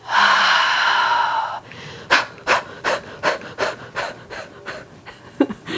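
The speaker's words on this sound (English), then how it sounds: "So we're breathing in and out really, really quickly" Rapid rhythmic breathing, in through the nose and out through the mouth, comes as about ten quick forceful puffs after an opening long exhale, close and loud with no talk.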